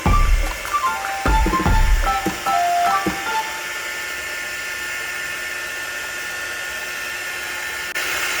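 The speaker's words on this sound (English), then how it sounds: "For this, I'm going to use my heat gun and heat the excess" A heat gun blows hot air across excess resin on the back of a resin coffee coaster, a steady hissing whoosh that runs throughout, with a few brief clunks of handling in the first few seconds.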